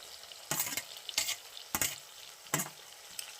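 Tomatoes tipped into a hot pan for a cucumber pickle, giving four loud bursts of sizzling and stirring at a close distance, separated by quieter frying in between.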